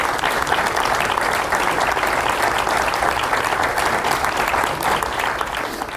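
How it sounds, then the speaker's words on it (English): An audience at an evening conversation event applauds steadily for six seconds, a dense, even wash of many hands clapping with no speech over it. "a round of applause for Buddy Mooney, please."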